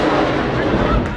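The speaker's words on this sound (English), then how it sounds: "That's an outgoing rocket." An outgoing rocket launches in an Iraq war VR video game: a loud, dense roar with a heavy low rumble fills the whole short moment, close and continuous with no break.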